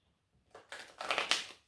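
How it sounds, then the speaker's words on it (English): A quick riffle of tarot cards being shuffled, a few crisp papery bursts close by, fading out after a second or so. "I hope you guys can see me shuffling."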